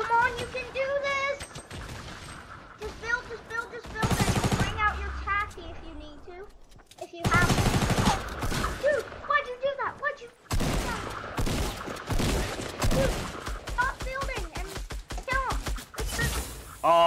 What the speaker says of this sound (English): he shot me through the ground